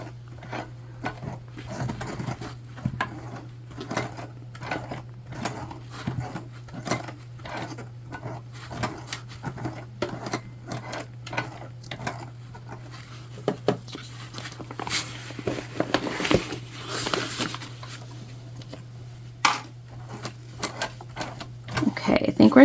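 A hand-cranked sewing machine stitches a seam through a tote bag, giving a run of rapid, fairly quiet mechanical clicks and taps in repeated bursts over a steady low hum, with brief pauses between the bursts.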